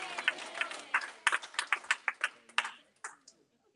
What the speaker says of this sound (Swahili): Ungempigia tena Jehova makofi ya shangwe.